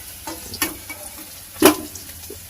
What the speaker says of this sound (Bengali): এই আলুগুলো ভালো করে ভাজা ভেজে নিই